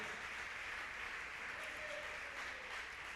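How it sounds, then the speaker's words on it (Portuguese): Church congregation applauding, a faint, even, continuous patter of many hands with no distinct individual claps. "Então aplaude a palavra do Senhor, aplaude a palavra de Jesus"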